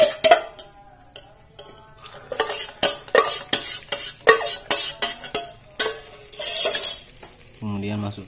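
Egg sausages fry in a multi-hole pan, with repeated scraping and stirring strokes of a utensil over a steady close sizzle, ending in a brief pour or splash.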